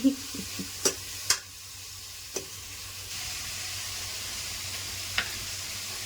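Maggi noodles with salt, onion and spices cook in a pan, giving a steady soft sizzle and hiss. A few sharp scrapes and clinks of stirring stand out, close and moderately loud, with no talking.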